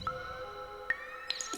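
Soft, filtered electronic tones from a Benjolin synthesizer through a band pass filter, with a steady hum and a few sharp pinging blips near the end, fairly quiet and resonant.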